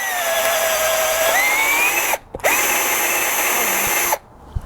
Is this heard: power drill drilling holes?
yes